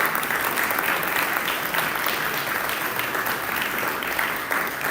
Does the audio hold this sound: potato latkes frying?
no